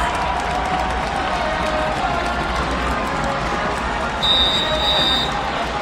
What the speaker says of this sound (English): You can hear them stomping their feet on the metal bleachers here at the University of Michigan Lacrosse Stadium.